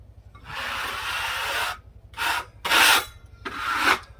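Bark is scraped off a cherry log at a sawmill in four rasping strokes of varying length, close and loud, separated by short silences, over a faint low machine hum.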